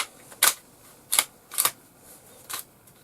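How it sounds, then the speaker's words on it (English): Four sharp, crisp metallic clicks and snaps come from an airsoft 1911 pistol slide being reassembled and recocked. They are close and irregularly spaced over a quiet background. "recock the weapon, push that bit forwards, slide that on"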